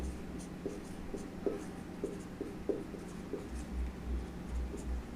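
Chalk or marker strokes on a board during a biology lesson on diffusion: a series of faint, short scratching taps in an irregular rhythm over a low, steady room hum, with no talk.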